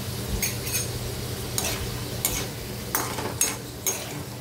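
Sandge, dried lentil dumplings, fry in hot oil with a soft continuous sizzle, punctuated by several short scraping stirs of a spoon in the pan at irregular intervals.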